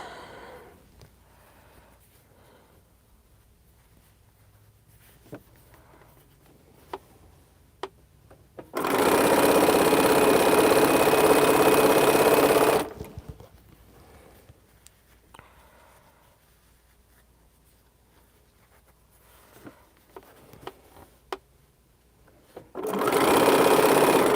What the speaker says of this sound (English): All right, so I just sewed those 3